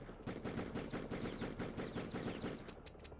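Rapid automatic gunfire from the video game Die Hard Trilogy rattles in a steady burst of evenly spaced shots, fairly quiet and continuous with no talking.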